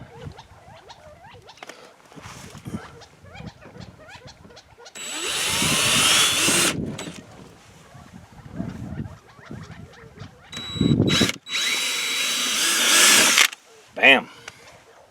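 Power drill boring holes to mount KEMIMOTO fender flares on a Polaris RZR KRX, with two sustained loud bursts of whining drilling, a shorter burst between them and a final brief one, separated by quieter handling noise and movement.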